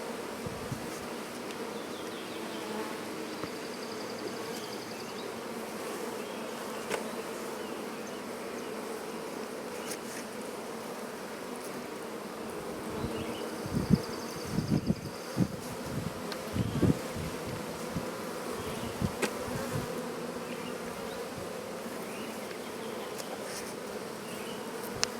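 Bees hum in a steady, low drone around a hive built inside a cat house, with sporadic louder buzzes and close passes as insects fly near, no voices present.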